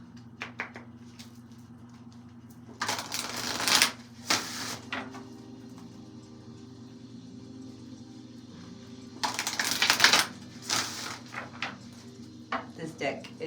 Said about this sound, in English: this deck is very satisfying to shuffle